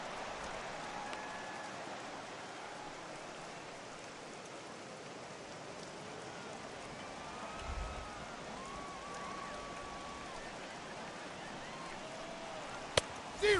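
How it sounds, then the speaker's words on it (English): Heavy rain falls steadily in a baseball video game broadcast of Pirates at Cubs, a faint, even hiss throughout with a couple of brief clicks near the end. "that rain is really coming down right now"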